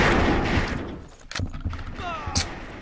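Pistol fire in the first-person shooter Assault Cube: a few sharp, close gunshots crack out over busy game noise and background chatter, with a loud burst near the end.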